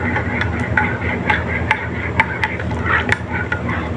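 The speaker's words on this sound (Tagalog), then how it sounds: "Haluin mabuti para malusaw ang kape." A spoon stirs coffee in a cup at breakfast, sharp clinks against the ceramic about every half second over a steady low background hum.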